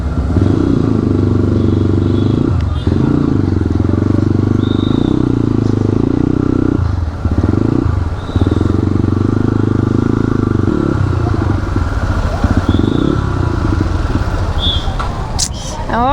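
A modified motorcycle is ridden on a road with traffic, its engine a loud, steady close-up drone that dips briefly a few times as the throttle eases, with clattering and wind noise throughout.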